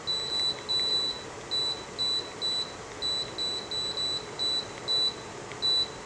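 A Cascade tower fan with a remote chirps out a series of short, high electronic beeps in an irregular run as its buttons are pressed, heard up close over a faint steady hiss.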